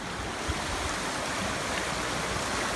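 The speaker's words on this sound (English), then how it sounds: "There already goes another creek crossing" A creek rushes steadily nearby at a hiking crossing, a continuous soft broadband wash of running water, with no talking.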